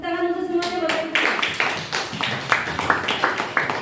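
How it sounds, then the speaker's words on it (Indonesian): An audience at a gathering claps in scattered, rhythmic bursts after a voice speaks at the start, the clapping moderately loud and close. "Tepuk tangan untuk semuanya Bapak Ibu."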